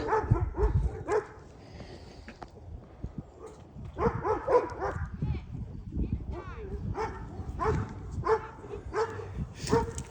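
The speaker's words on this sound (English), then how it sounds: "So those dogs are barking at a poor old man that's walking his little dog." Several dogs bark in short irregular bursts, some near and some farther off, while a person talks over them.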